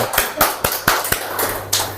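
A few scattered claps ring out, uneven and sparse, sharp hand strikes spaced irregularly over a couple of seconds with a low hum beneath.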